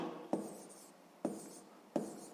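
A pen writes numbers by hand on paper during a sixth-grade maths exercise, giving three short, distinct scratching strokes spaced about a second apart, close and fairly quiet with no talking.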